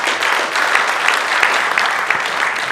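Audience at a press center event applauding to welcome a speaker, with steady, dense clapping of moderate loudness from a sizable crowd that holds for the whole stretch, no voices on top.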